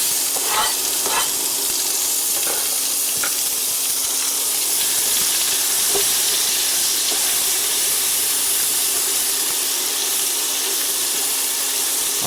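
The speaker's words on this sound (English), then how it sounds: "Let's turn down the heat and throw our onions in." Onions sizzle loudly in a pan of fat left from frying meatballs, giving a constant, dense crackle with a few faint clicks of utensils and no talking.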